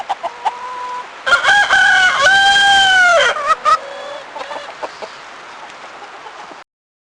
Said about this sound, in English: Spontaneously play rooster sounds when the learner is playing.